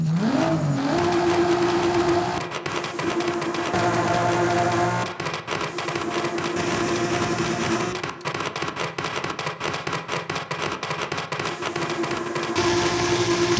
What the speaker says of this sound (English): You also get to rev your engine whilst upgrading your car to fine-tune the exhaust note you want to achieve.